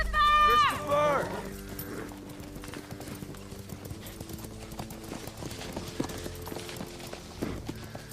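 A horse neighs loudly at the start, followed by a steady clip-clop of hooves on a hard surface, with faint voices in the background.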